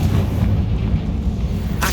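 A heavy, rumbling magical explosion from the Confringo spell in Hogwarts Legacy fills the space with loud, booming low-end roar, ending with a brief sharp burst.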